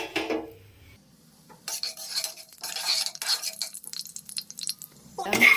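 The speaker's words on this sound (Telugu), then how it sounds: "అందులో కొన్ని పోపులు వేసుకుందాము." Tempering spices spluttering in a thick-bottomed pan on a stove, heard as bursts of crackling sizzle and light scraping of a spoon between quieter gaps, close and moderately loud.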